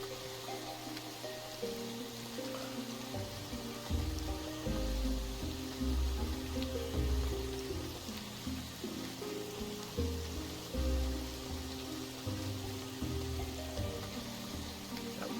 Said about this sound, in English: Oh, right, rain.